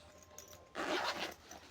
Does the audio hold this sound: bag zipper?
yes